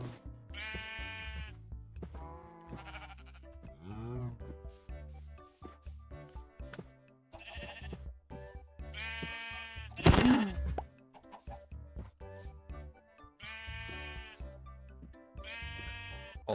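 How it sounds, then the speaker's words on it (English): Sheep bleating in a hardcore-mode video game, several clear repeated bleats spaced a few seconds apart, close and distinct, with small clicks and game sounds between them. "Also sheep."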